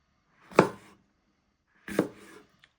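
A knife chops through bell pepper into squares for a stir-fry, two crisp separate cuts on a board with a short pause between them, close and quiet.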